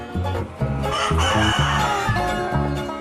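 Chickens cluck and a rooster crows repeatedly, loud and close, with several birds calling over each other in a busy, crowded space.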